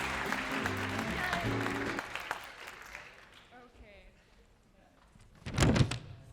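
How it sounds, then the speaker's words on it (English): An audience at a lū'au claps for the volunteers, a brief swell of applause near the end, preceded by music and quieter room noise. "Let's give all of our volunteers a big round of applause"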